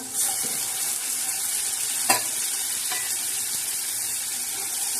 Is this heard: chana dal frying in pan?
yes